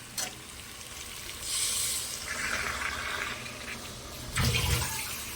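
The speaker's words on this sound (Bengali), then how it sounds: "এবার আমি জল দিয়ে দেবো" Water is poured into a pot of soybeans in a few splashy bursts, a brief gush early, a longer pour in the middle and a louder splash near the end, over a steady low background hiss.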